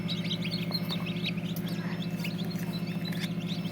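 Newly hatched Japanese quail chicks chirp as their eggs crack, thin high peeping calls repeating over a steady low mechanical hum, likely an incubator.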